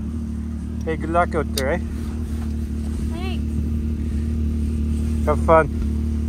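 A street-legal Can-Am Maverick side-by-side runs in snow with a steady low engine drone, while people exchange brief friendly words over the top of it.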